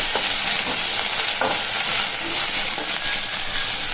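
Okra (vendakkai) sautéing in a pan for a tamarind curry, a steady loud sizzle with intermittent scraping stirs, close and continuous.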